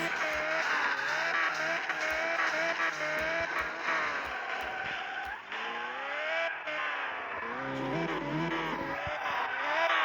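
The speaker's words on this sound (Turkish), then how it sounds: "Bayağı hızlı gidiyor araba" A car driving fast, its engine loud and steady throughout with rising and falling revs, close by and continuous for the whole stretch.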